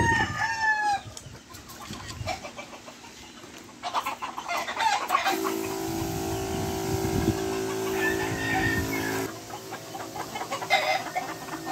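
Four-month-old chicks moved into a new area cluck and chirp throughout, with a rooster-like crow and steady farmyard clucking close by, mixed with rustling and a low hum.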